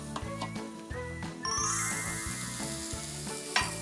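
Cabbage tsukune patties sizzling in a frying pan, a steady close hiss that swells midway and holds, with faint tinkling clinks and a louder knock near the end, no one speaking.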